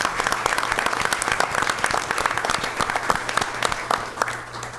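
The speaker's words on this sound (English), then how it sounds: "How about a nice round of applause for them?" A crowd at a school board meeting applauds with dense, steady clapping that carries on throughout without a break.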